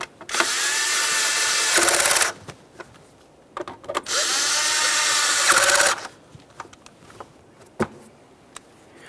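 A power tool snugging spark plug mounting bolts on a 2012-2018 Nissan Maxima 3.5L V6, heard as two loud whirring bursts of about two seconds each, separated and followed by faint clicks and clunks.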